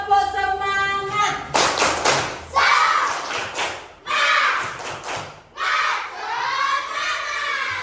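A classroom of children performs a rhythmic spirit clap, bursts of synchronized clapping and shouted chanting alternating in quick patterned groups, loud and close, with a teacher's voice leading in between.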